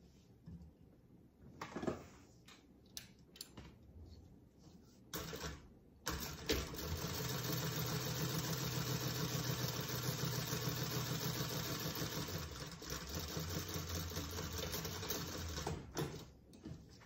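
A sewing machine runs steadily for about ten seconds, stitching a Dooney & Bourke-style crossbody bag at a quarter-inch seam, with fabric handling and faint clicks in the lead-up before the motor starts.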